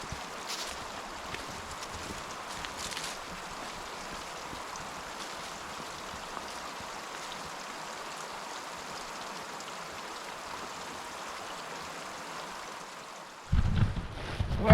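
A river flows steadily in a broad, even wash of moving water that holds at the same level throughout, close and alone, ending in a brief louder handling noise.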